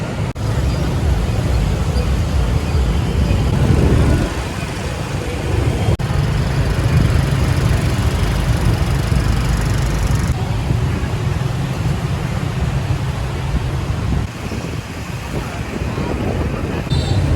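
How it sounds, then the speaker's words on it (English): Steady street traffic in Saigon, Vietnam, with small moped and scooter engines droning and passing by, a continuous busy roar with shifting engine tones. "quintessential Vietnam with all the mopeds and scooters driving by"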